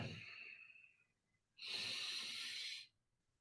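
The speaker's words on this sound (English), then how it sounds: "In through the nose and out through the nose." Calm breathing through the nose during a guided meditation, one soft exhale fading out, a pause, then a steady, hissing inhale of about a second and a half, close and quiet.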